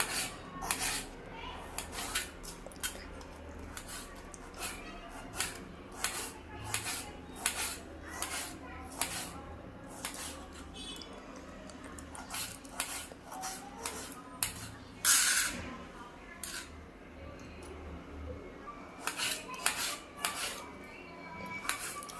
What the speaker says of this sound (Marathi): बारीक असं आपण टोमॅटो चिरून घ्यायचे.